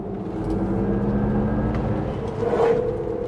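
A 2024 GMC Hummer EV pickup with big tires and heavy mass accelerates hard, a dense, rising drive whine and road roar swelling louder near the end, heard from inside the cab.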